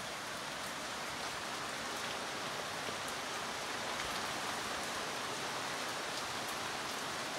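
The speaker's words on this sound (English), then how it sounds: "It's a bad rain." Steady, heavy rain pours down in a dense, continuous hiss, close and unbroken throughout, with no voices.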